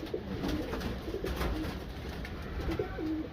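Pigeons coo softly in low, repeated throaty bursts against a steady background hum, with a few quiet rustles.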